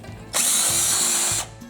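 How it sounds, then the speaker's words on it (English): A power drill runs a 1/4 inch bit through a hole in a bracket while fixing a slipping belt on a Cub Cadet GTX 1054 garden tractor, whining loudly and steadily for just over a second before spinning down. "So, 1/4 inch drill bit, we're going to drill this hole out"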